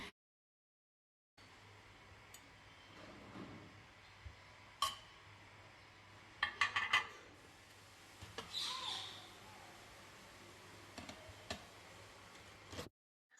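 Crockery and kitchen utensils gathered and sorted in a home kitchen after a dinner party: scattered light clinks and knocks, a few sharper taps, faint and close, over a low steady hum with no talking.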